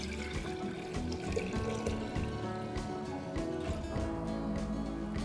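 Water pours steadily into a kombucha fermenter jar, a continuous quiet splashing and trickling with no break throughout.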